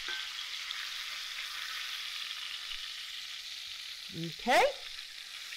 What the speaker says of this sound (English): Just doing a real quick sear on it.